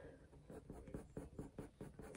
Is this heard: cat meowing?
no